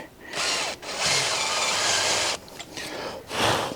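A power drill bores into a broken muffler cap screw stuck in the muffler stud of a Homelite chainsaw, whining loudly in long close bursts with brief pauses between them.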